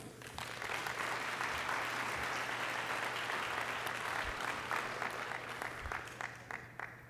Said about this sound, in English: So please join me in a round of applause for everyone being honored tonight.